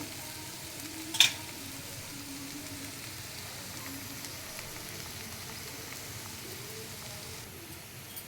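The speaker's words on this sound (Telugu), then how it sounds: "ఇప్పుడు దీన్ని ఒకసారి కలుపుదాము" Onions cooking with salt and chili powder in a pan for an egg curry, a quiet low sizzle with one sharp clink of a utensil against the pan early on, no talking.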